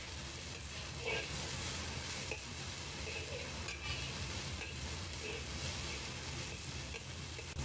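Green and red peppers stir-fry in a hot wok, with a loud, steady sizzle running throughout and occasional spatula scrapes and tosses layered over it, close up.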